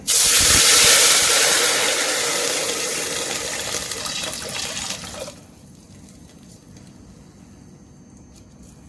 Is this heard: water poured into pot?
yes